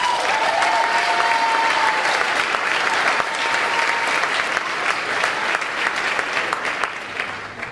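Sustained audience applause fills a high school baccalaureate ceremony, a dense, even wash of many hands clapping with a faint whistle early on, tapering slightly toward the end.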